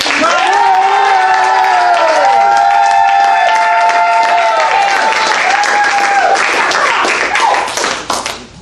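Loud, sustained audience applause and cheering at a live sidestage comedy show, full and continuous for several seconds with bright tones cutting through the din, before easing off near the end.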